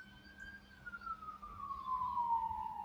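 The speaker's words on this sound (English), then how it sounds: "but at the same time, those sirens were blasting off" A siren, most likely a police car's, wails steadily in the background, with its pitch gliding slowly downward as it moves away. It sounds moderately loud and has no talk over it.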